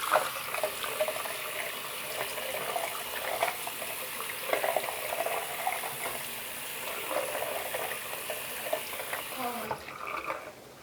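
Running water splashing steadily while a face is washed at a sink, a continuous close hiss and trickle with small splashes, ending abruptly near the close.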